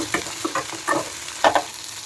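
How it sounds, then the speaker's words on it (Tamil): Snake gourd being tossed and stirred in a pan over very low flame, giving a few scattered scraping, clattering stirs with a soft sizzle beneath, close and fairly quiet with no talking. "ஒரு டாஸ் சும்மா கலக்கலாம், அவ்வளோதான்."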